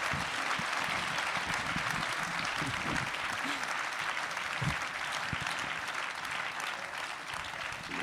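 A debate audience applauds the three candidates in a municipal election for Argentan: steady, dense clapping from a full room that holds evenly throughout, with a faint murmur of voices underneath.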